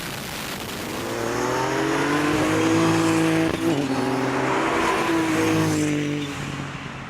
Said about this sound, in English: we filmed the Ford and the M6 going through our favourite corner at the test track